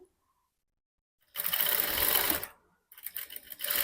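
A sewing machine stitches piping onto a blouse neckline in two close bursts, a steady whirring run followed by a short pause and a choppier restart, heard alone after near silence.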